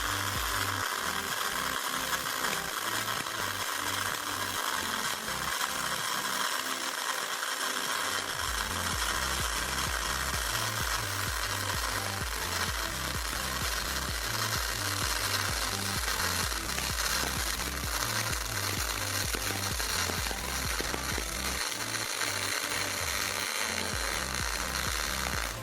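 Continuous arc welding of a fillet joint: a steady crackling, sizzling hiss running unbroken for about 25 seconds at moderate level, close by, with no talk.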